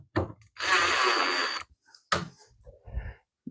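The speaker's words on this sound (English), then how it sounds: "We'll stand it up and hacksaw that off." Hacksaw cutting through a plastic part of a Confer Plastics 7200 Roll Guard above-ground pool ladder: a short stroke, then a longer dense rasping burst of about a second, with faint knocks and handling sounds after it.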